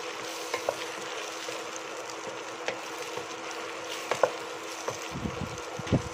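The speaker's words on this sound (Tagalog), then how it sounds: "Haluin po natin mabuti." Hot and sour soup being stirred in a pot, with a steady bubbling, sizzling bed and soft scraping clinks of the utensil scattered through, plus a few louder knocks near the end.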